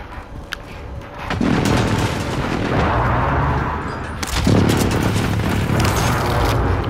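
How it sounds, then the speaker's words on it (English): Airstrike explosions in Call of Duty Warzone: heavy booms erupt in two big waves, a rolling barrage of loud blasts and rumble that continues for several seconds, with no talking. "Be advised, friendly position airstrike inbound."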